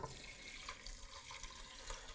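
Water runs steadily from a tap into a Comfee rice cooker pot holding two cups of rice, a soft continuous splashing stream without any speech.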